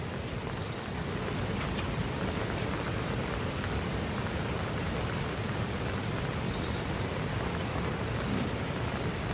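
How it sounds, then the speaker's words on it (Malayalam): Heavy, relentless rain pours in a mountain forest in Kerala, a loud, dense and continuous hiss of downpour with no breaks. "മഴ തിമിർത്ത് പെയ്തുകൊണ്ടിരിക്കുകയാണ്"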